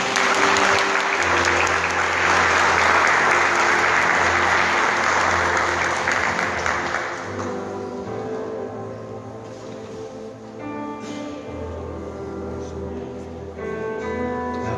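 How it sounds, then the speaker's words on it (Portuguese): A church congregation applauds loudly together during a worship service, a dense, sustained burst of clapping that fades into softer scattered claps over background music. "Aplauda o Senhor forte."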